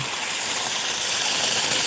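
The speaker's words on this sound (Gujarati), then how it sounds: "આવા તલ છે તેમાં પાણી વાળવાનું શરૂ છે રાત્રે તમે જોઈ શકો છો" Water rushes steadily and loudly through a channel to irrigate a sesame field at night, a continuous broadband gush with no voices.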